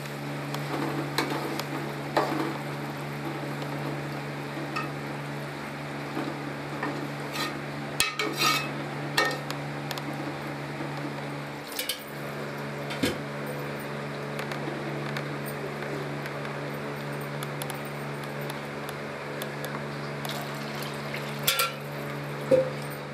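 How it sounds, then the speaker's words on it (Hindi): Water goes into moong dal frying in a pan, bringing a steady sizzle and bubbling that runs the whole time, with occasional clinks and scrapes of a metal spoon against the cookware. "अब हम इसमें पानी डालेंगे"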